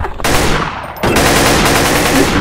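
Sustained automatic assault rifle fire in Counter-Strike Source, loud and close, running almost continuously with a brief dip before the rapid shots resume at full intensity.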